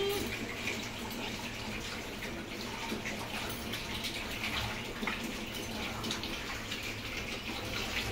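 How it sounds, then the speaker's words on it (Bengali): Hands washed under a running tap, a steady close splash and gush of water flowing continuously with no pauses and no talk. "হ্যান্ড ওয়াশ হয়ে গেল"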